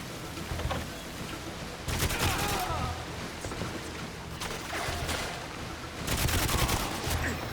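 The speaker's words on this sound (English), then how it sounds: "The guns, I will say, sound a little funny." Bursts of rapid gunfire crackle in GoldenEye 007: Reloaded on Xbox 360, heavy volleys around two seconds and again near six, with a steady rumbling backdrop between.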